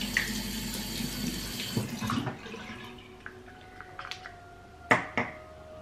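Tap water runs into a sink as cleanser is rinsed off during a skincare routine. A steady stream plays for about two seconds, then stops, followed by scattered drips, splashes and small knocks close by.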